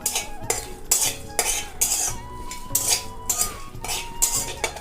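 Whole spices (dried red chilies, cardamom, cinnamon and cumin seeds) are stirred in a frying pan, producing repeated bright metallic scrapes and clinks of a utensil against the pan over a low background sizzle.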